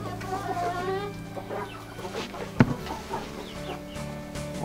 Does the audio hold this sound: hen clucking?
yes